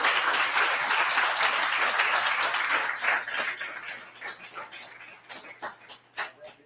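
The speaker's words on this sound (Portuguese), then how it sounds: "Dê um aplauso a Jesus." A church congregation applauds loudly and steadily, then the clapping thins into scattered individual claps that fade out.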